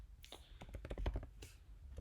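Someone types on a computer keyboard while writing Python code, producing a quick, close run of light clicking keystrokes in uneven bursts with a short pause midway; the level is quiet overall.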